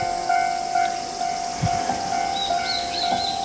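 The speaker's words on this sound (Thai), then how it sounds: "อย่าด้วยเลยรถไฟนี้มันจะพุ่งไปไหน" A train rushes past in the VRChat virtual world, a loud, steady roar of rolling wheels and hiss with a sustained tonal whine and periodic thumps, constant throughout with no voices.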